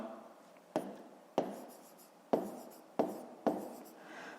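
A pen scratching out a math solution on paper, five or so quick close strokes and taps, each with a short scraping tail, quiet and with nothing else heard.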